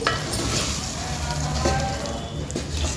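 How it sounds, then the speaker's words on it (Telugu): Masala for stuffed brinjal curry frying in a pan, a steady close sizzle with occasional stirring scrapes and no talk. "మసాలా మంచిగా పచ్చివాసన అయ్యే వరకు ఫ్రై చేద్దామండి"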